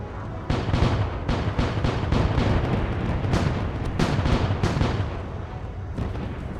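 In a space ship-captain video game, ship cannons fire a broadside as a dense, loud barrage of booming blasts in rapid succession, overlapping into a continuous roar with no voices.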